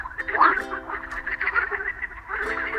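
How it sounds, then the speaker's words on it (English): A duck quacks in a short run of nasal calls near the start, then keeps up a busy, bright chatter through to the end, fairly close and alone without talk. "Yes, it's the duck."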